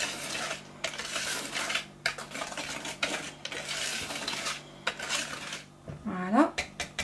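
Orange cake batter is beaten in a bowl, a brisk scraping and clinking of utensil against the bowl in bursts, with a short metallic ring near the end; a voice speaks at times.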